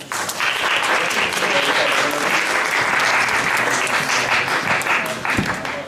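Student union election crowd applauding a candidate, a loud, sustained round of clapping that holds steady for several seconds before tapering slightly, with faint voices underneath.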